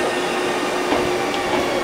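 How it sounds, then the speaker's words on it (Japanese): A six-car Hankyu express train pulls into a station, a steady loud broadband rumble of rail cars rolling past with faint wheel noise, no voices. "電車は6両編成で到着いたします。"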